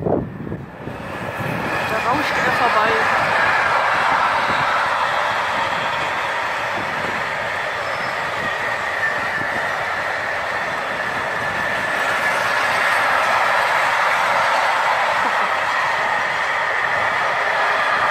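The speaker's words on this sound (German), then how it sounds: "anscheinend kommt noch ein Zug" A train rolls past on rails in an otherwise quiet spot, a steady broadband rumble and rattle holding close and loud for the whole stretch with no speech over it.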